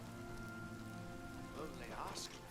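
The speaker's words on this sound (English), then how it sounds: "it is also pouring rain" Steady pouring rain patters in the Oblivion Remastered video game as a constant hiss beneath a low tonal game ambience, with a brief voice-like sound near the end.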